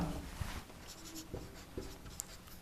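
A pen scratches and taps on paper at close range as someone writes out a maths problem, short irregular strokes over a faint background hiss, with no speech.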